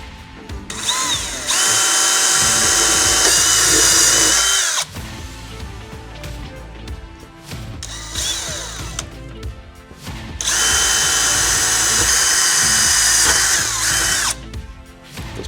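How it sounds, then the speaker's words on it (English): A power drill bores a pilot hole through a weld on a RAM ProMaster, with two long bursts of loud high-pitched whining and grinding, separated by quieter clicks and shorter spins. "we're going to drill a pilot hole through this weld."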